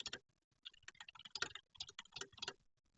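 Quick, light clicks of typing on a computer keyboard come in short irregular bursts, quiet and close, with brief pauses between runs of keystrokes.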